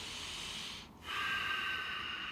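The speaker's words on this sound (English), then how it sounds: "Then keep breathing." Slow breathing, a breath out with a brief pause and then a longer, louder airy breath in, close by and alone, with no talk.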